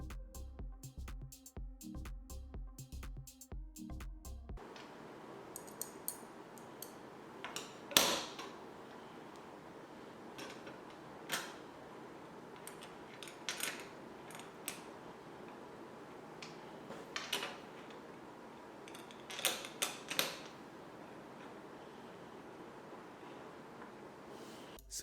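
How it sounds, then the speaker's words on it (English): Small fasteners of a Noctua SecuFirm2 backplate being secured on an LGA 1700 mini desktop build, heard as sparse light clicks and ticks of metal parts scattered across a quiet background, with a few sharper taps. "Securing these little fasteners require a little dexterity if you are doing this for the first time"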